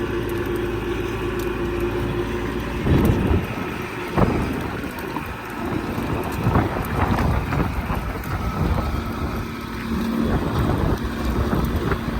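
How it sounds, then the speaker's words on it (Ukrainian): Wind gusting across an open ploughed field during tractor ploughing with an MTZ 892 and a PLN 3-35 plough, a continuous rough buffeting roar with heavier bursts, loud and close with no talk. "Вітер може трохи задувати"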